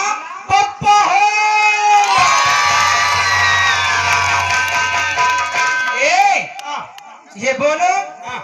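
A large outdoor crowd including children cheering, whooping and shouting in a loud sustained roar, with individual shouts and calls before and after the main swell.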